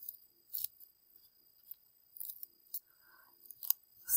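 Scissors snip through folded paper to cut snowflake shapes, a series of short, crisp, close-up cuts in uneven clusters with quiet pauses between them.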